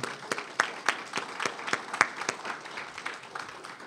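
An audience applauds chapter volunteers at an indoor presentation, a thin, fairly faint spread of claps with a few sharp individual hits, no talk over it.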